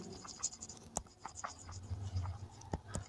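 A pen scratches across paper writing an answer, with short strokes, taps and pauses, close and quiet, with no talking.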